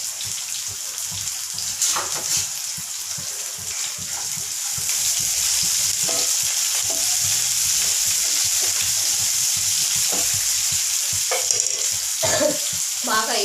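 Upma ingredients with onions fry in a pan while a spoon stirs them, giving a steady close sizzle with scraping strokes throughout, and no talking.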